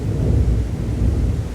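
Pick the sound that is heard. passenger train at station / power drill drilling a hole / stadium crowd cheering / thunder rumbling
thunder rumbling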